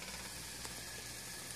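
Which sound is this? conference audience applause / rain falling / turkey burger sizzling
turkey burger sizzling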